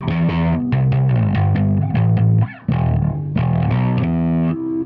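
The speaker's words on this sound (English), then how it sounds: "The Guvnor DS. I think this is a take on the Marshall Guvnor Distortion." A Lakland 4401 bass played through a Guvnor DS distortion pedal, a take on the Marshall Guvnor, gives a loud, gritty run of picked notes with a short pause midway before the riff resumes.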